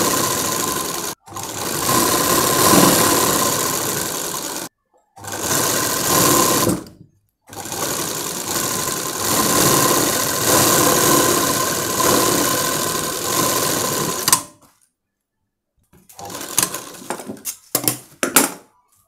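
A sewing machine stitching the lining of a lehenga, loud close whirring runs of rapid stitches broken by short pauses and a few stop-start bursts near the end.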